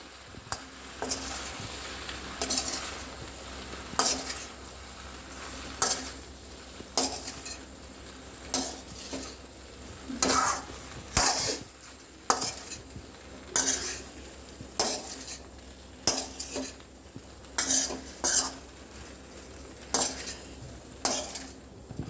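Macaroni being stirred in a pan for breakfast, a spoon repeatedly scraping and clinking against the metal in irregular strokes over a faint sizzle, close by and with no talking.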